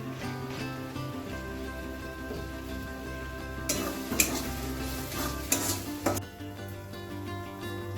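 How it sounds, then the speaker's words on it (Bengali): Ground spices, including chili powder, fry in a pan with a splash of water under steady soft music, with a few louder scraping stirs clustered in the middle. "সব গুঁড়ো মশলা দিয়ে খুব ভালো করে কষিয়ে নিয়েছি"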